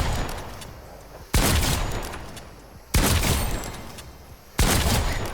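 Three loud shotgun blasts in Fortnite fired at flying practice targets, evenly spaced about one and a half seconds apart, each with a sharp attack and a long ringing decay.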